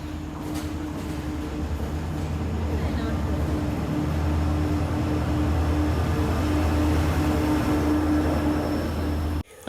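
An air-conditioned passenger train runs steadily with a continuous low rumble and mechanical hum heard from inside the carriage, droning evenly at close range throughout.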